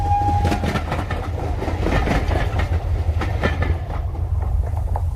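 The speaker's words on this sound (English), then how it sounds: "I looked down again and saw him refurling the flag he had shown while the train went by" A train rushes past close by, a loud continuous rumble and rattle with rhythmic clickety-clack of wheels over rail joints, sustained throughout without voices.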